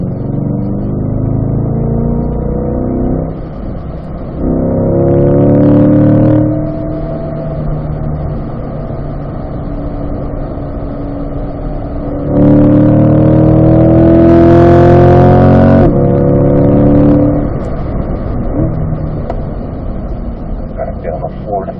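A car driven hard on a race track, its engine rising and falling in pitch through upshifts and downshifts, with loud revving bursts around mid-clip and continuous engine drone from start to end.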